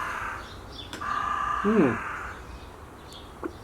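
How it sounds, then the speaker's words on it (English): Crows caw in the background, a couple of harsh calls rising over steady ambient noise, moderately distant. "crows are going on in the background here."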